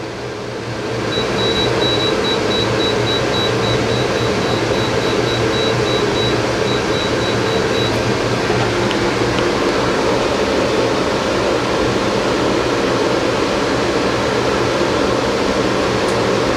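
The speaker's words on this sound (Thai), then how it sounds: "คอมเพรสเซอร์แอร์ทำงานแล้วนะครับ" A steady, loud mechanical hum and airy whoosh start after a second and continue unbroken, an air conditioner compressor running on a repaired inverter under about 4,900 watts of load, with a faint high whine early on.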